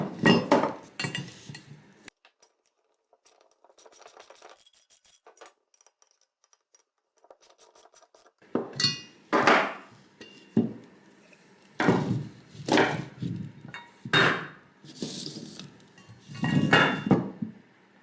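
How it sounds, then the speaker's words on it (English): A Phillips screwdriver fastens a bolt while a Bora Portamate PM-1100 stand is assembled, with close metallic clinks, taps and scraping bursts in an irregular rhythm and a quieter stretch in the middle. "Phillips screwdriver."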